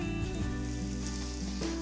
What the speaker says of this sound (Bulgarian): Режем на средно едро лука и го добавяме в тигана да се запържи.